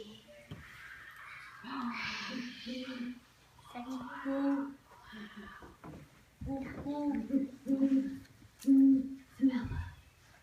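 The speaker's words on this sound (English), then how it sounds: "This is a great horned owl." Low, soft hoots of a great horned owl repeat in short groups amid faint rustling and a voice speaking nearby, some calls clearer and louder toward the end.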